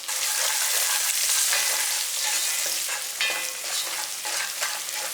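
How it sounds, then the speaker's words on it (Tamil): About five crushed garlic cloves sautéing in hot oil with onions for a fish curry, a loud continuous sizzle with a steady hiss and occasional spatula scrapes, close up and without talking. "நம்ம தட்டி எடுத்து வச்சிருக்க பூண்டு பல்லு ஒரு 5 பல்லு பூண்டு எடுத்துருக்கேன், அதையும் இந்த எண்ணெயிலேயே வதக்கிடலாம்"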